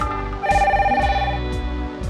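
A telephone rings with a steady electronic tone, heard near and clear, repeating in short bursts over a low hum, with no talking.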